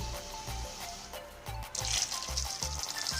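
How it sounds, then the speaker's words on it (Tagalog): Hot water is poured into a pot of raw peanuts for boiling, a steady splashing fill with rhythmic low knocks beneath it that grows brighter and fuller toward the end. "lagyan lang natin siya ng tubig. Hot water na po guys ang gamit ko ha, para mabilis kumulo po."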